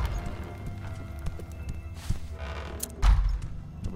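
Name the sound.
horse clip-clop in The Chant video game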